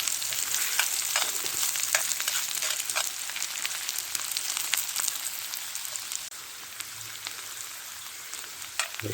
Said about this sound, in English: Right, we'll fry them off first.